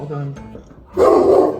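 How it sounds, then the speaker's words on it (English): A pet dog barking indoors: a short, rough bark rises loudly near the end after a brief spoken phrase. "my dog definitely did not like the noise. You can probably hear him still barking."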